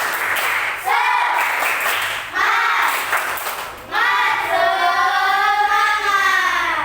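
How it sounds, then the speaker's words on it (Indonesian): A school class claps out a rhythmic spirit clap in several loud bursts, children's voices chanting along with each pattern close by. "Tepuk semangat."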